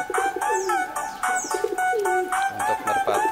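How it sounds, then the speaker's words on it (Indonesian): A white pigeon coos close by, several repeated throaty rolling calls in quick succession, clear and fairly loud. "untuk merpati putih yang dijodohin blebok teman-teman"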